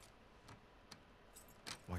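Keys jangle faintly in The Last of Us Part II, a few light metallic rattles spread out and then clustering toward the end, with a hint of a voice at the close.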